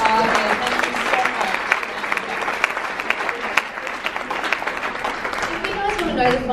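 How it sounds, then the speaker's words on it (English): A room full of people breaks into sustained applause after a talk on zero-waste living, dense steady clapping holding for several seconds with some crowd voices mixed in. "a massive round of applause for Jess"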